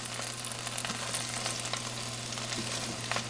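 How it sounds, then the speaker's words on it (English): Chicken pieces sizzle steadily in a Ninja Combi pan as they are flipped over, a close, constant frying hiss with small clicks and scrapes of handling and no talking. "pan out and just kind of flip things over"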